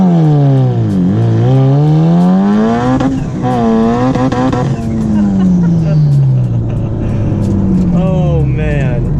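A 510 whp Mitsubishi Evo 8 held near 5,000 to 6,000 rpm and launched off the clutch: loud, close engine revving that rises and dips repeatedly, then pulls away in a climbing, then falling, drone.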